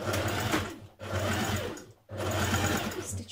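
Sewing machine stitching across the top of a pleat on a shirt dress, running loud and steady in three bursts separated by two brief stops.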